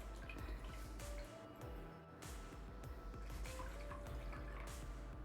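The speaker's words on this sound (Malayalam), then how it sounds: "2 കപ്പ് വെള്ളം ഒഴിച്ചു കൊടുക്കാം." Water trickles and drips steadily into a pan for ripe mango curry, with a thin running stream and scattered splashes throughout.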